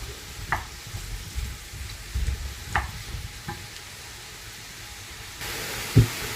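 Quartered mushrooms fry in a pan over medium heat with a steady close sizzle and hiss. Occasional scraping clicks of stirring break through, and the sizzle swells louder near the end.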